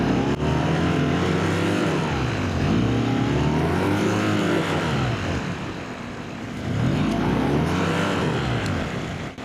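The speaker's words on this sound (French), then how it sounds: "À chaque fois que je touche ces herbes, mon moteur cavite." A loud outboard boat motor roars continuously, cavitating as it touches weeds, its pitch surging up and down in uneven swells as it races and bogs down.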